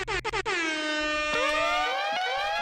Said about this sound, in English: Let me throw them air horns